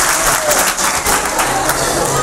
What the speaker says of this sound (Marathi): एकासाठी टाळ्या एक वेळा.